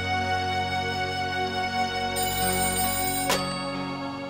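A telephone rings continuously with a loud, tonal electronic ring, shifting pitch partway through and cut off sharply near the end.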